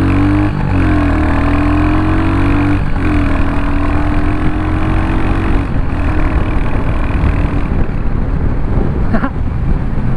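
A Royal Enfield Hunter 350 motorcycle exhaust rising and falling through several revs as it pulls through the gears, a loud, close engine drone with repeated climbs in pitch and brief dips between, no talking.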